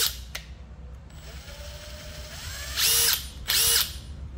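Japanese cordless drill running in hammer mode, with a rising whir followed by two loud, close bursts of rapid hammering, each about half a second long, and no talk.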